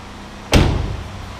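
A single sharp thump as the hood of a used 2010 Chevrolet Cobalt with a 2.2-liter Ecotec engine is handled, a short close impact that decays quickly into quiet.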